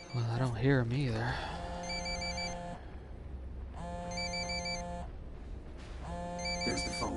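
In the video game Ghost Recon Wildlands a phone rings in three repeated electronic bursts with short pauses, heard over background ambience, with voices talking and a warbling sound near the start.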